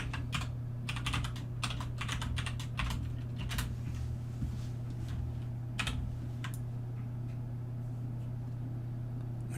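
Quick bursts of light, close clicks from a computer mouse while a six-legged model is rigged, clustered irregularly over a low steady hum, thinning out toward the end.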